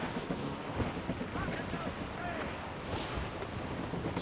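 Steady roaring wind of a squall at sea with wash of water around a sailing ship in Assassin's Creed Rogue, a constant loud blustery rush.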